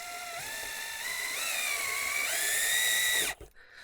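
Power drill driving screws into a roof among wooden shakes: a loud, steady whine that rises in pitch in steps over about three seconds, then cuts off abruptly as the screw seats.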